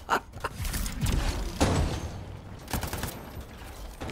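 Gunfire in the video game Anthem: a few scattered sharp shots and bursts among shifting game effects, with moderate loudness and no voices.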